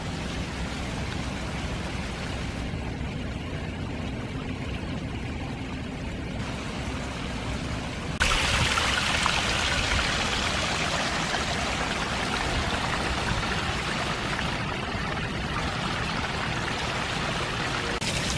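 A small waterfall at Iroquois Park rushes and splashes continuously on a sunny April morning, its steady hiss growing louder and brighter partway through.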